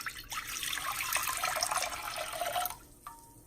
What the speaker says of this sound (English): here I have the 2 cups of water. I'm gonna pour it in here.